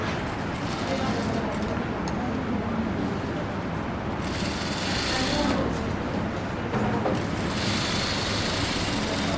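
Sewing machine running a line of stitches beside a zipper on a pair of pants, a steady close mechanical whirr and rattle that continues throughout, with a voice speaking over it.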